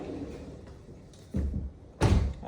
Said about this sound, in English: it has a pocket door.